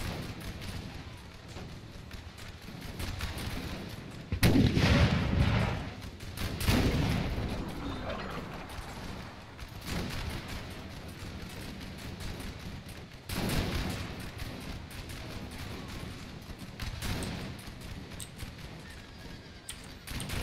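Musket volleys and artillery booms rumble through a Napoleonic Total War 3 battle, with several loud bursts of firing rising over a continuous noisy battlefield din, and horse sounds mixed in.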